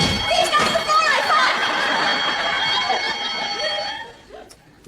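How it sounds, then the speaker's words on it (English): A household burglar alarm triggered by a broken invisible beam shrills continuously with steady high-pitched tones, loud and close, while background voices and laughter carry on beneath it before it cuts off near the end. "It's a burglar alarm I've had fitted. You broke an invisible beam."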